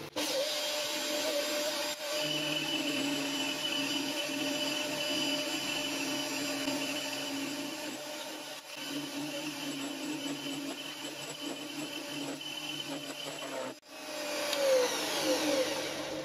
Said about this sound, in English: I'll get on and machine this down to 10mm.